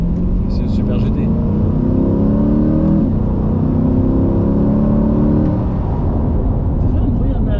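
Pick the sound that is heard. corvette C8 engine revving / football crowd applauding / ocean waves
corvette C8 engine revving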